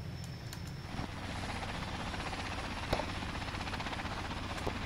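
A helicopter's steady rotor thrum fills the whole clip, constant and fairly close, with a faint high whine above it.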